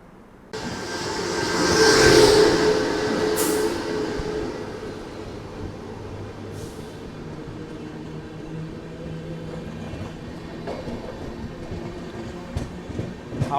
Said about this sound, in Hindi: हावड़ा राजधानी यहाँ पे स्वर्ण जयंती के आगे आगे निकलते हुए कोहरे में